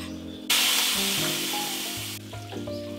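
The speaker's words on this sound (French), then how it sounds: "On va rincer la poêle avec le fond brun, louche." Brown beef stock ladled into a hot frying pan bursts into a sudden loud sizzle and hiss that fades slowly over about two seconds before quieting, with faint kitchen hum underneath.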